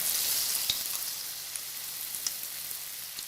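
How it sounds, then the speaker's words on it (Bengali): Potato pakoras frying in hot oil over a medium flame, giving a steady, soft sizzle with small pops and crackles, close and alone without talk. "তারপর মিডিয়াম ফ্লেমে এগুলোকে ভাজতে হবে"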